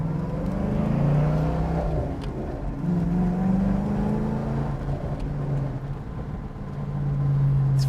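A 1995 Ford Mustang Cobra R accelerating with engine drone rising and dropping through gear shifts, steady cabin-perspective rumble with road noise, no talk.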